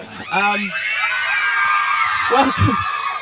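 Fans scream and cheer at a film cast interview for The Fault in Our Stars in the UK, a loud sustained wash of high-pitched shrieks and whoops, with a voice speaking briefly over the crowd.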